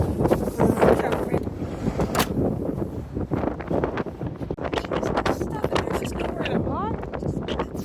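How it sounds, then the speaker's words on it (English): Strong gusting wind blows outdoors in sub-zero winter cold beside a Dodge Grand Caravan used for van life, a loud, steady rush buffeting the microphone with bursts of rumble throughout. "the wind makes me feel like it's minus 30 again"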